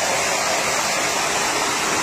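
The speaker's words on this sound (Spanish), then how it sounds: "el agua es lo que hace girar esta polea" Water gushes steadily from a pipe, turning a pulley in a small rural hydroelectric setup, as a continuous loud, close rushing hiss with no pauses.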